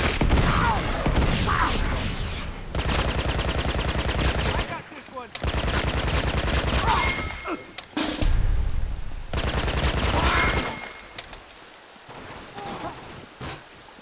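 Sustained bursts of rapid automatic gunfire from the Uncharted 2: Among Thieves co-op arena game, loud and dense with short gaps between volleys, fading to a softer tail near the end.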